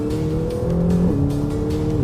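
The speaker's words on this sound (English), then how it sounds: "But my goodness, the acceleration is amazing." A 2020 McLaren GT, powered by a detuned version of the 720S engine, accelerates hard from inside the cabin, its loud engine note rising steadily and stepping up through a gear change.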